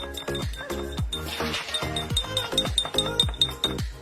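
A spoon clinks repeatedly against the sides of a glass while stirring a dissolving chemical solution, producing bright, evenly rhythmic taps close up, with a faint voice underneath.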